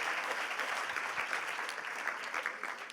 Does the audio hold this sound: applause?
yes